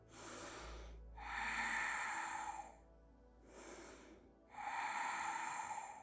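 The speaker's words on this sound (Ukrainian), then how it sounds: "Звичайний вдих-видих" Slow yoga breathing during a glute exercise session: two long, breathy inhale-and-exhale cycles heard close and quiet, with a pause between them and no talking.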